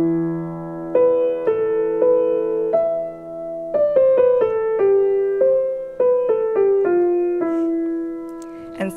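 Solo piano plays a medieval-style monophonic melody over a low sustained drone, single clear notes stepping up and down in a slow rhythm.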